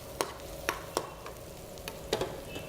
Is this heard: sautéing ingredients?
yes